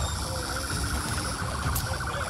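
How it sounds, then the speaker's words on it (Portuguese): São Paulo military police car siren during a motorcycle chase, a loud, continuous wailing tone with rapid warbling pitch, close and dominating throughout the short burst. "Sirene, giroflex."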